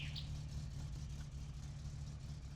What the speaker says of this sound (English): You can hear the bus.